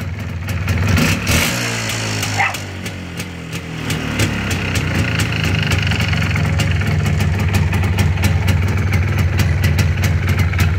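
A 1970s-era MZ ETZ 250 two-stroke motorcycle engine runs close by, a loud steady idle with a brief dip and rev early on, then a constant throbbing drone.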